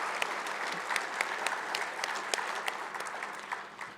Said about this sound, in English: I think we need to give a round of applause to Greg and everybody else who helped this monumental effort.